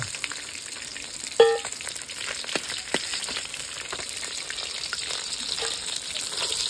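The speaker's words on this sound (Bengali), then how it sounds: "এদিকে আমার মাছটাও ভাজা হয়ে গেছে, মাছটা তুলে নিচ্ছি" Parshe fish frying in hot oil in a pan, a steady soft sizzle and crackle with scattered pops, one louder clatter early on, close and unaccompanied by talk.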